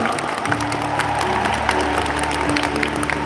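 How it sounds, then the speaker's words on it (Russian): Stormy applause from an audience at a leadership event honouring a chairman, dense continuous clapping with light cheering, while music or a sustained tone plays underneath throughout. "Бурные аплодисменты господину Пак Хан Гию!"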